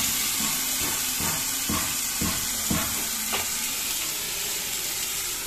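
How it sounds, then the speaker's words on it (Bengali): Potato pieces, skins on, fry with turmeric and black cumin seeds in hot oil in a pan, giving a steady loud sizzle with a series of spoon clacks and stirs against the pan throughout, no talk. "হলুদ দিলাম, আর এবার আলুগুলো দিয়ে দিলাম।"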